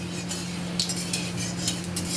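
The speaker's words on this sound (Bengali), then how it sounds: "নাড়াচাড়া করলাম।" Black cumin seeds stirred in hot oil in a wok, with scraping spatula strokes and light clinks over a soft, steady sizzle, close up and without voices.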